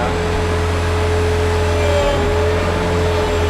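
A Zamboni ice resurfacer holds a steady, loud, close motor drone while it is brought up to operating RPM and begins to drive, with a slight swell near the middle.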